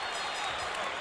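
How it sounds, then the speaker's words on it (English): A Tar Heel basketball crowd at a 1983 NC State versus UNC game roars after a three-pointer, a dense, steady wall of cheering and applause for a moment. "That brought the Tar Heel crowd to life."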